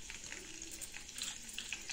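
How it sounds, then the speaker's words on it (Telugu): Hot oil fries a tempering of mustard seeds, cumin and lentils with chillies, ginger and asafoetida, a soft continuous sizzle with light, scattered crackles and pops, heard alone. "ఇవన్నీ కొంచెం చిటపట ఆవాలు చిటపట అయ్యి జీలకర్ర కొంచెం వాసన వచ్చిందాక కొంచెం వేయించుకుందాం"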